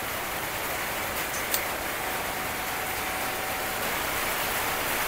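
Light rain just beginning to fall during the solar-panel charging of an electric motorbike, a steady soft patter of drops spread evenly across the whole stretch with one brief tap near the middle.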